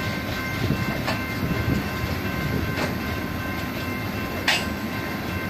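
Coal train passing, a continuous loud rumble of railcars rolling by with rhythmic clicking and squeals from the wheels.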